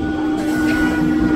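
A crowded Bengali local train on the Sealdah–Hasnabad line runs along the track near Haroa Road station, giving a loud, steady rumble and rattle of rolling carriages for a brief stretch.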